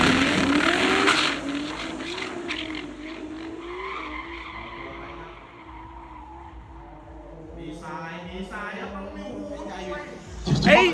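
A pink big-turbo 2JZ Safiro drag car's engine roars and fades with tires screeching at a rural Thailand drag race, then another burst of revving and acceleration near the end; voices talk underneath.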